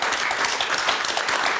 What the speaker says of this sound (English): So that's getting a round of applause.